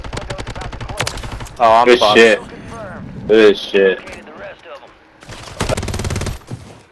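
Bursts of Call of Duty Modern Warfare gunfire, rapid loud volleys and automatic shots in several clusters, mixed with mechanical clicks, while a player speaks briefly.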